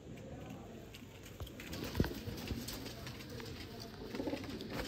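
A female teddy pigeon coos softly at close range, a few low murmuring calls rising briefly over steady background noise, with light fluttering and patter around the loft.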